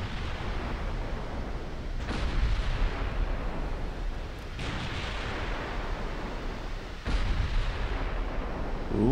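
Big naval guns firing in the Dreadnought Improvement Project game, heavy booming salvos about every two and a half seconds over a dense, continuous rumble of battle noise, with no voices.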